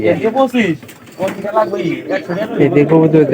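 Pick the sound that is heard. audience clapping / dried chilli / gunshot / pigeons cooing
pigeons cooing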